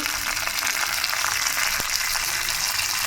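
Steady, loud sizzling of curry leaves frying in hot oil with dried red chillies, a dense crackling hiss that continues without pause.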